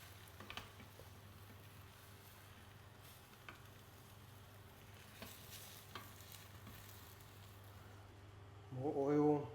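Tamagoyaki egg layer cooking in an oiled pan, a steady quiet sizzle and crackle with occasional small pops, ending in a short louder burst as a voice starts to speak.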